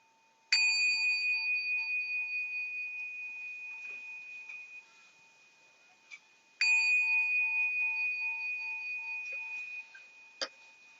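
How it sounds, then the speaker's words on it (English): A meditation bell is struck twice, each bright ringing tone sustaining for several seconds and slowly fading, with faint soft knocks in between and otherwise quiet surroundings. "I'll sound the bell 3 times."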